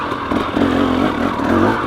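A 2017 KTM 300 XC two-stroke dirt bike lugs uphill in second gear without the clutch, engine note steady and close with a low throbbing rumble and slight rises as the throttle opens, no voices.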